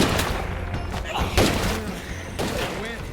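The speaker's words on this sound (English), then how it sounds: "he's shooting the arms off, I think" Gunfire in the zombie survival game State of Decay 2: a few loud thumping shots and impacts over continuous overlapping game sound, with someone talking throughout.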